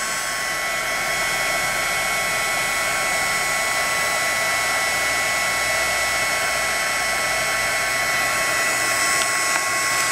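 A heat gun blows a steady, loud airy roar with a faint whine, melting a thick layer of embossing powder, running continuously without a break and with no talk.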